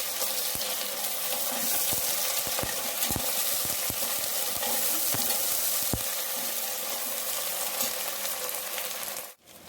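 Ginger garlic paste fries in hot oil for egg biryani, a steady close sizzle with occasional sharp crackles and stirring clicks throughout, dropping off abruptly at the very end.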